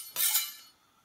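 A large kitchen knife gets one quick scrape against a sharpener, a short bright metallic rasp that fades into quiet.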